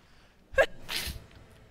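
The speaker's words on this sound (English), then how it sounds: "Sorry, I sneezed." A streamer sneezes once, close to the mic: a sharp sudden burst followed by a breathy airy release, alone with no talk.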